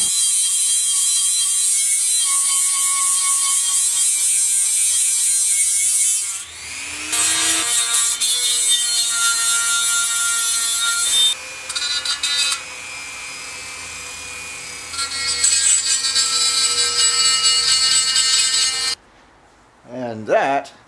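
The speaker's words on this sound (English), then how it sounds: "I want to go in with this less aggressive flap wheel on a lower speed just to clean up what is left of the paint" A flap wheel on a grinder running at low speed polishes leftover paint off metal on a custom Yamaha Radian motorcycle build, a loud steady whine with pitch shifts, brief pauses and cutoffs, ending in near silence.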